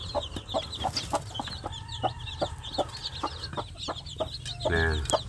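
Village chicks cheep in rapid, high, overlapping peeps close by while a mother hen clucks in regular low pulses beneath them, ending in a longer hen call.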